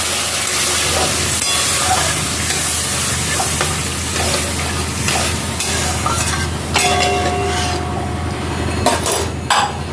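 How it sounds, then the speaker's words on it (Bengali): Water poured into a hot pan of Bengali fish curry (tel jhal) hisses and sizzles steadily throughout, with stirring scrapes and a few sharp clinks of utensil on pan near the end. "এবার জল দিয়ে দিচ্ছি।"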